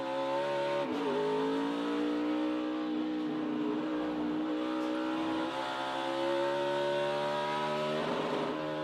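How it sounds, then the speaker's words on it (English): A race car on a hill-climb course revs hard with a sustained, rising engine whine, dipping briefly as the driver brakes and blips the throttle between shifts, loud and continuous throughout. "See how hard he's on the brakes? Backing off now. Tapping the gas to synchronize his shifts."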